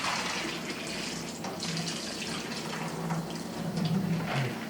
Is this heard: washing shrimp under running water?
yes